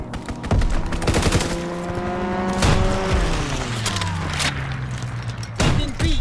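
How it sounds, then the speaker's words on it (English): Sustained bursts of automatic gunfire and rattling impacts from an aerial strafing run in a Call of Duty WWII multiplayer Domination match, loud and dense, with engine drones sweeping through the barrage. "Strafing run inbound!"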